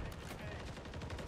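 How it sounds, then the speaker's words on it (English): Call of Duty MW3 ranked multiplayer gunfire comes as rapid, dense bursts of shots layered into constant background game noise, fairly faint and continuous throughout. "Oh, you're just shooting, bro."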